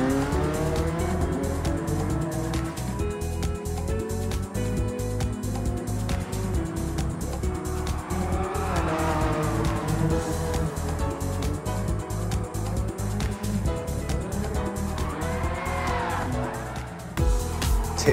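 A Honda NSX in Gran Turismo Sport slides sideways with long, wavering tire squeals over a steady engine drone, the screech rising and falling through the drift.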